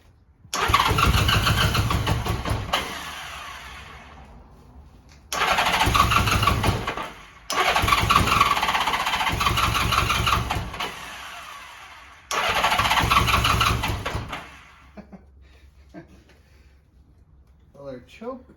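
A 40-year-old Honda GL1100 motorcycle engine is cranked and fires in four long attempts, each catching into a rough, loud running burst before dying, with quiet gaps between and some faint clicks at the end.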